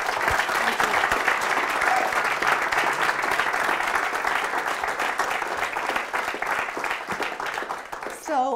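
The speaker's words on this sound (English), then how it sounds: "Could we have a round of applause for us?" Audience at an IBM agile conference talk gives a full, dense round of applause lasting over eight seconds, with a few voices mixed in and the clapping thinning slightly at the end.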